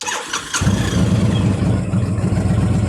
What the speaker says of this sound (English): Let me start her up for you. It's gonna be a little loud, Daniel.